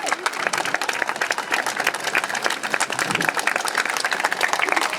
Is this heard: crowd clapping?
yes